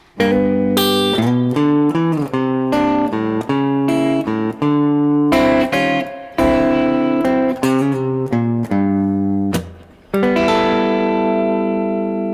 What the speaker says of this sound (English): the turnaround, one more time, real slow, is gonna look and sound like this.